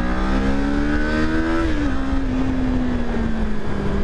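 Kawasaki Ninja 400 KRT 2023 motorcycle accelerating hard, its close, loud engine note climbing in pitch through the revs, with a brief dip at a gear change before the pull resumes over steady wind rush.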